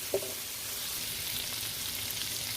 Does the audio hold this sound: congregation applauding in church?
no